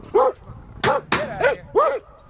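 Several dogs bark sharply at a bear let out of a culvert trap, five loud close barks with short gaps between them.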